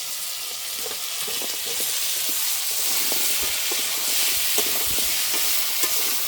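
Crab pieces stirred into fried potatoes in a pan for a crab curry, a steady close sizzle with intermittent scraping stirs and hiss, no voices.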